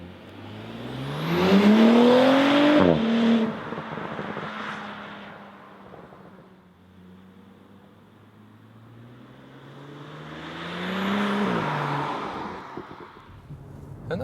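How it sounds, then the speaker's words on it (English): An Audi S4 Avant with a 3.0-litre 354 hp V6 turbo petrol engine surges twice, rising in pitch through the revs with a gear change, then settles into a quieter steady drone between the pulls. "I think the best to test that one is to get that engine running."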